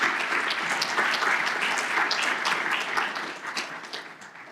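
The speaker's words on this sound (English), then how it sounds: "Can we have a round of applause for all of our host organizations?" A round of applause from the audience at a community celebration honoring host organizations, steady dense clapping throughout that thins and fades slightly toward the end.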